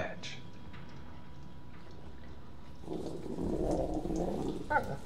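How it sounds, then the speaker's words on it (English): A dog in the horror game Until Dawn growls low and rumbling, rising in the second half over a quiet ambient background with a few soft ticks and clicks. "Oh, that's the other dog."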